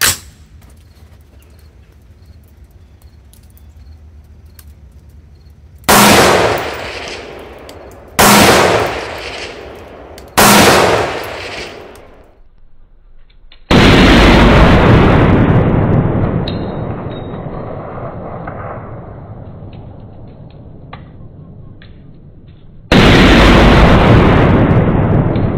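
Loud gunshots ring out at close range during 3-gun practice at targets, several separate sharp blasts with long ringing decay, then a sustained roar and one more heavy blast at the end, with no talk.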